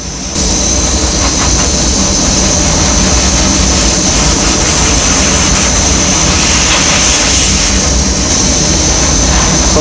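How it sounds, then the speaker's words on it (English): Dry nitrogen gun blasting water droplets off a silicon wafer in a cleanroom lithography lab, a loud steady hiss of gas that starts abruptly and holds constant, close and alone. "I use dry nitrogen to blow all the water droplets off of the surface."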